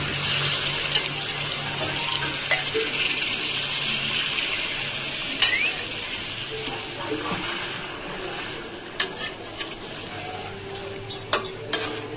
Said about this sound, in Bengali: এবার আমি জলটা দিই।